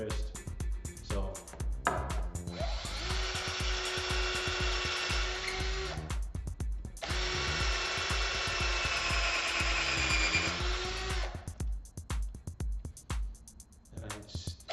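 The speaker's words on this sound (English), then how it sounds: "So I'm going to drill my holes here." Two long bursts of a power drill whining into a wooden board, drilling screw holes, each several seconds, separated by a short pause, with light handling knocks around them.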